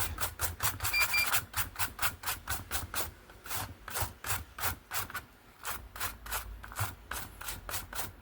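An antistatic brush scrubs a Daewoo or Winia air conditioner PCB board with solvent in quick, rhythmic back-and-forth strokes, a close, steady run of bristly scratching bursts with no talk.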